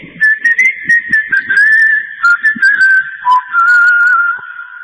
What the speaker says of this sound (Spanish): había un chiflido para congregar a la barra